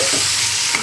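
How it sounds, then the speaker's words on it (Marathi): Rings of spiny gourd (kantola) stirred in hot oil, a loud, close hiss of frying with a faint scrape, lasting under a second. "हे बघा कंटोळीची भाजी यामध्ये घालूया"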